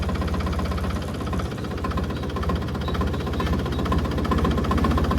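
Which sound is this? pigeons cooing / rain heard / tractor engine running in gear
tractor engine running in gear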